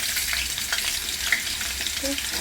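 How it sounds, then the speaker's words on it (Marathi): Potatoes fry in hot oil in a pan with a continuous close sizzle and crackle, steady and loud throughout the short stretch. "हे बटाटे आपण थोडे भाजून घेणार आहे"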